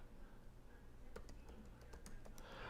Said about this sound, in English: I'm typing up some stuff for the live.